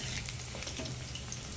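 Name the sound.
frying boondi crispy in oil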